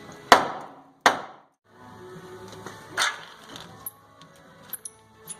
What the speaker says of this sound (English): Just took one more smack and it come off.